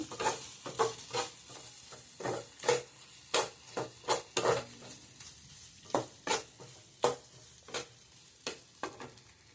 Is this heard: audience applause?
no